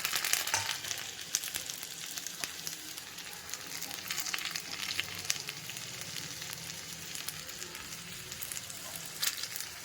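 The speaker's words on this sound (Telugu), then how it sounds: "ఇప్పుడు మాత పెట్టుకుందాం ఫస్ట్ వెల్లుల్లి వేస్తామండి" Garlic sizzling in hot oil for a tamarind-leaf dal tempering, a steady close crackle and hiss with a few sharper pops and no talking.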